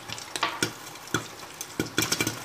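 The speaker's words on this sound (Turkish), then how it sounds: "Mısırlarımız patlıyor arkadaşlar." Popcorn kernels burst in a covered Teflon pot with plenty of oil, giving a handful of sharp, irregular pops close by over a faint sizzle.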